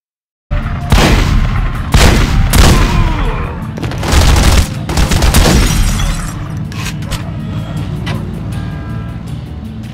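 Gunfire in The Godfather video game during a contract hit, with loud, close bursts of shots and booming blasts echoing, then fading into a lingering rumble.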